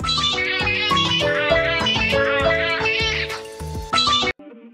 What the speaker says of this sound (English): it's cat meows into door camera Apple ringtones.